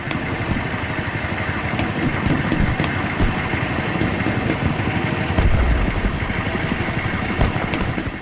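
Vehicle engine in the video game BattleBit Remastered, a steady rough mid-pitched idle with rattling clatter, continuous and fairly loud throughout with no talking.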